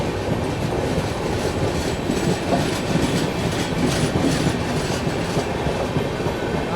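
The Poorvottar Sampark Kranti express races along at speed with a continuous close rumble and a rattling clickety-clack of wheels over rail joints, heard alone with no talk.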